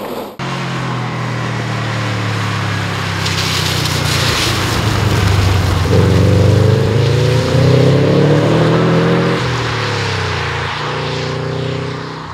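A Subaru Impreza GC8's EJ20 boxer engine drones loudly from inside the cabin while driving, its pitch rising steadily as it accelerates through the gears, with no talking.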